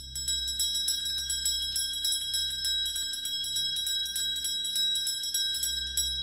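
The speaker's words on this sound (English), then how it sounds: "He rang the bell several times." An old, rusty bell with writing engraved on it is rung several times, its bright ringing tones repeating steadily and overlapping into a sustained metallic shimmer, close and moderately loud with no talking.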